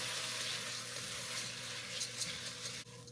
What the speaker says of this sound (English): after you sauteed that rice up with that garlic and onion for a minute, for about 3 minutes